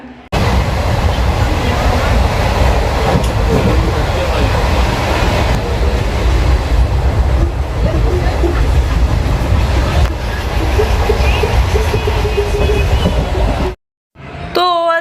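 Steady rumble and rattle of a moving overnight train to Nadia from inside a carriage, loud and continuous, with faint voices underneath, then a brief drop near the end.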